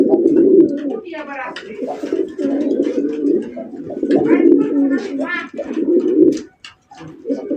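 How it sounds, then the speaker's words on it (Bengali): A pigeon coos repeatedly nearby in low, rounded bursts, while people talk over it at a pigeon sale. "পাশে কিন্তু একটা কবুতর ডাকতেছে"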